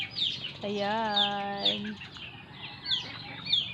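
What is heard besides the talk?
hens clucking in a coop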